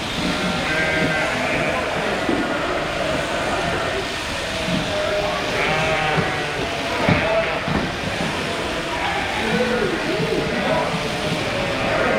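Sheep in a shearing pen bleat repeatedly, close and overlapping, amid continuous rumbling background noise and some indistinct voices.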